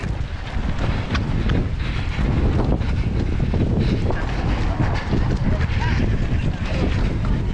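Heavy wind buffeting during an 8k running race in Portland, Oregon, a loud continuous rumble with gusty surges, with a voice talking faintly underneath.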